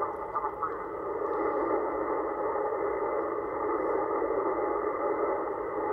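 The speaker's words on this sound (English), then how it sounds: "Up, there's the interference." Interference (QRM) on an amateur radio receiver during a summits-on-the-air contact, a steady, loud band-limited buzzing hiss that runs unbroken throughout with no voices.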